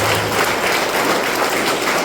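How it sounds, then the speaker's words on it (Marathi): A church congregation clapping together, a dense, loud, continuous wash of applause filling the room with no pause. "टाळ्या वाजवता"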